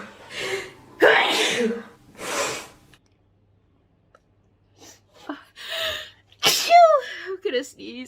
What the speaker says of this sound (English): I'm gonna sneeze over and over.